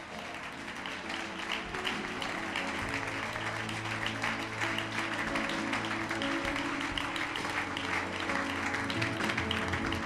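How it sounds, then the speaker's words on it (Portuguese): A church congregation claps together after a blessing in an evangelical service, a dense, steady wall of applause that holds loud and even for the whole stretch, with faint voices mixed in. "Uma salva de palmas ao Senhor."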